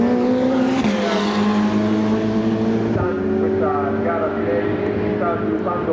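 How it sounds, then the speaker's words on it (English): Ferrari Challenge race car at Monza under full throttle, its engine note loud and close, rising through the revs with a sharp gear change near the one-second mark and another around three seconds, all under a commentator's voice. "Fabio Lima winds on the throttle now to give it absolutely everything he can"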